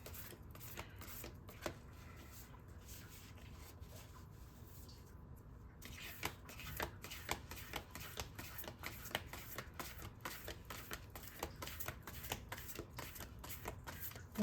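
A deck of affirmation cards is shuffled in steady, close riffling bursts, with quick card slaps and soft hand handling before one card is drawn.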